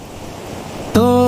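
Sea waves wash steadily onto the shore in an animated cartoon, a soft continuous surf that is abruptly joined near the end by a loud sustained musical tone.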